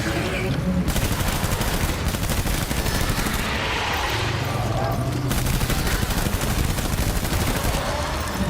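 Sustained gunfire of lethal rounds in Death Stranding, dense rapid shots rattling loudly without pause, with a voice underneath.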